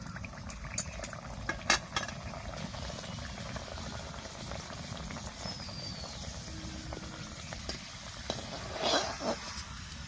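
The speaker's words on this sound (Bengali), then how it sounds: "তেল গরম হয়ে গেছে, এবার একটা একটা করে আমি ভেজে নেব।" Pieces of egg paratha fry one at a time in hot oil in a kadai, giving a steady low bubbling sizzle with a few light clinks of a utensil, and no talk.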